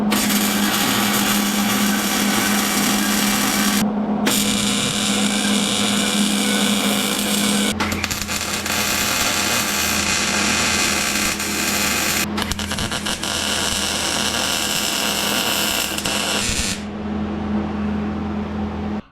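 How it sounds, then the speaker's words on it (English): Welding on a 3rd Gen Toyota 4Runner front suspension kit produces a steady, loud crackling buzz that runs almost continuously for about nineteen seconds, with a few brief breaks between weld passes. "All right, we got the outside welded."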